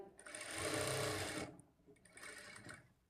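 A sewing machine stitches the joints of a plain blouse, running in a steady loud burst for about a second and a half, pausing briefly, then starting again for a shorter run, with no talking.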